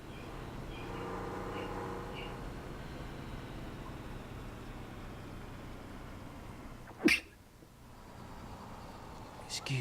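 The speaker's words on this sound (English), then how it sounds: "Excuse the sneezing there." A single sharp sneeze bursts out loud and close, over quiet farm-game engine hum and faint background talk, followed by a smaller sound near the end.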